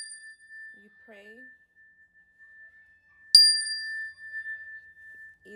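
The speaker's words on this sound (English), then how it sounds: "Easiest, you can do it with a bell." A single clear strike of a hand bell rings out with a sustained, slowly fading metallic tone, a soft faint tap heard earlier in near silence.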